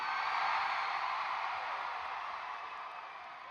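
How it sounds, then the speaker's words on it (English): Steady crowd cheering fills a San Francisco concert hall during a concert, a dense roar of many voices that stays loud and unbroken before easing off slightly toward the end. "when you hear everybody cheering"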